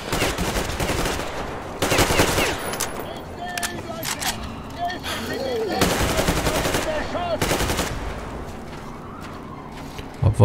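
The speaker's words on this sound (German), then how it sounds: "Abwarten, bis die ihre Schüsse abgefeuert haben." Enemy gunfire in the post-apocalyptic shooter Metro Exodus: several sharp bursts of automatic fire crack out in separate volleys, loud and close, with quieter gaps, small pops and faint ambient noise between them.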